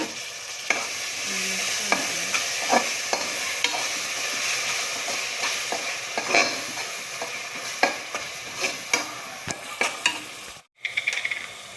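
Chicken being stirred and fried with curd for biryani, a steady sizzle under repeated scraping stirs of a spoon in the pan, close and loud, with a brief pause near the end.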